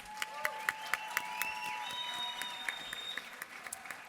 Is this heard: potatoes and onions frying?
no